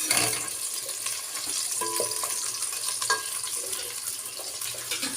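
Okra sizzles steadily in hot oil, a constant bright hiss with occasional light stirring clinks and scrapes, close and unbroken with no voices.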